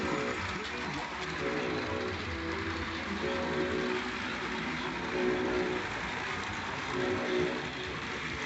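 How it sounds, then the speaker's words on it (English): Vintage Tyco HO scale model train engine running steadily on its track, a continuous rolling mechanical hum with faint rail clatter, with talk heard over it throughout. "That engine will even run slow speed pretty well."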